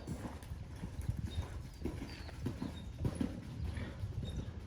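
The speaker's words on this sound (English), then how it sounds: "this horse has lovely natural gait" A horse's hooves clip-clop at a steady, rhythmic pace during a riding clinic, the footfalls faint and somewhat distant against a soft, continuous ambient rumble.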